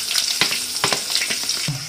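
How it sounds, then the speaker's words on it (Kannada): Onion is added to a hot tempering of mustard seeds, cumin and curry leaves, giving a close, crackling sizzle with quick pops and a few stirring clinks over two seconds. "ನನಗೆ ಈ ಈರುಳ್ಳಿ ಹಾಕ್ಕೊಳ್ತಾ ಇದ್ದೀನಿ ಒಗ್ಗರಣೆಗೆ"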